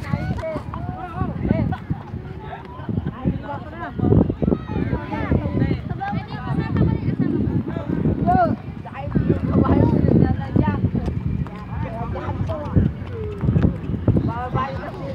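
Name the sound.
horse hooves clip-clopping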